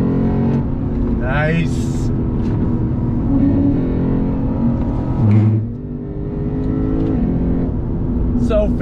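A 2021 Lexus RC F Fuji Speedway Edition on a downshift, the engine blipping up in sharp revs and then roaring steadily as the car pulls out of a corner, loud and close, with a brief word spoken.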